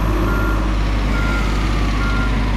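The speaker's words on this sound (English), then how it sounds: "I'm just going to back my truck in here" Reversing beeps from a truck backing up in the On The Road truck simulator video game, a steady repeating alarm tone sounding over a continuous low engine drone, with no talking.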